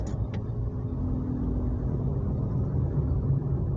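Steady low rumble of a car engine while driving home, a constant drone with road noise and no change in pace. No talking.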